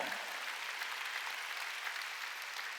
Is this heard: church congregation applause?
yes